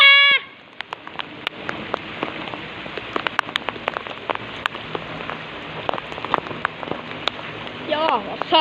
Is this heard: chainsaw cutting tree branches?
no